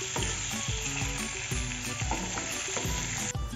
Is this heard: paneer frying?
yes